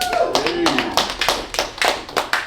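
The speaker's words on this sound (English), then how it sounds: "Thank you for clapping for me still being alive." An audience at a stand-up comedy show claps in a short, scattered burst for a comedian turning 50, the clapping mixed with her voice speaking over it.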